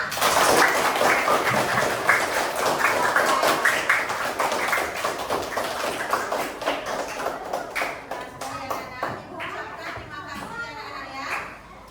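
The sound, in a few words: class applause for everyone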